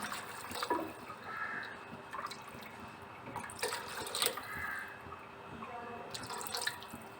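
About 1.5 litres of water runs and splashes steadily into a cooking pot, a continuous pouring sound with small drips and clinks, close by.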